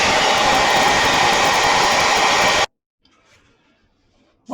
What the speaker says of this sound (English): I'm going to hit it with the hair dryer and see what happens.